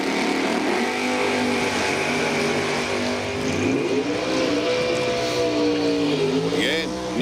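Drag race cars, a Camaro and a Monza, roar at an oval-style drag event, with steady droning engine noise rising into a revving pull near the end, heard under a continuous announcer's voice.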